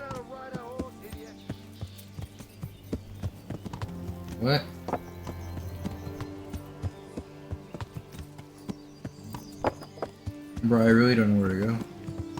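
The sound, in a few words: horse hooves clip-clopping in video game Kingdom Come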